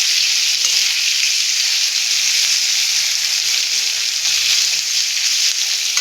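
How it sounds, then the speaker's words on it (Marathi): Onion and curry leaves fry in hot oil over a high flame for green chicken curry, giving a loud, continuous hiss and sizzle close up with no talking. "आता याला चांगलं आपण लाल होईपर्यंत फ्राय करून घेऊया कांदा."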